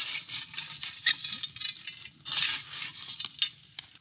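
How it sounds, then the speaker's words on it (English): Hot coals are scraped and dropped onto a cast iron Dutch oven set on a tall trivet stand at a camp cookout, giving soft, close gritty rustles and a few light metallic clinks. "And now we need to load up with coals."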